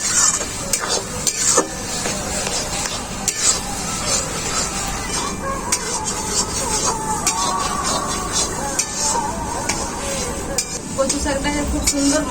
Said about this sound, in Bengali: কচু শাকটাকে মশলার সাথে খুব ভালো করে কষিয়ে নিতে হবে এইভাবে